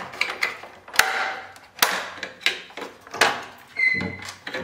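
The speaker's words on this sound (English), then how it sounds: "you can take the brewing unit with some fiddling from the machine" Brewing unit being worked loose from a Sage Creatista Plus coffee machine: a series of sharp plastic clicks, knocks and scraping rattles, close and irregular, with a brief squeaky creak near the end.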